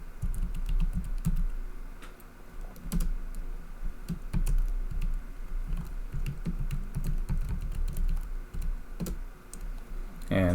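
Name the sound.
typing a command on a computer keyboard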